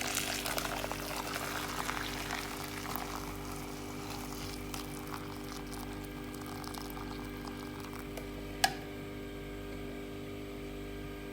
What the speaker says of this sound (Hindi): अब मैं इसे छान लूँगी